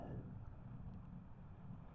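Strong wind on the coast after a super typhoon, a steady low roar buffeting the microphone, quiet and constant with no voices.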